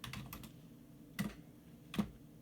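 Two sharp key presses on a calculator, spaced about a second apart, close and clear over a quiet background.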